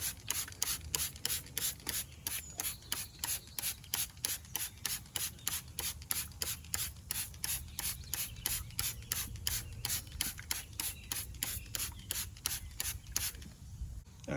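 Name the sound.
spraying wheel cleaner onto car wheels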